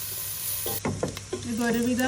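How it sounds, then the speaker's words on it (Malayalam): Onions frying in ghee in a pan, cooked until brown, with a steady close sizzle, stirring scrapes and a few clatters, and a voice speaking briefly over the cooking. "ആ പാത്രത്തിലേക്ക് തന്നെ നമ്മൾ നെയ്യിൽ വറുക്കാൻ വെച്ചിരിക്കുന്ന സവാള ചേർത്ത് കൊടുക്കാം."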